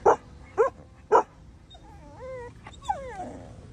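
Three sharp dog barks in quick succession, then a series of high whimpers and whines, close by with a quiet background.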